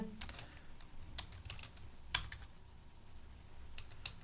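Quiet, close typing on a computer keyboard while entering product details into TallyPrime software, a loose run of soft key clicks with one sharper tap midway.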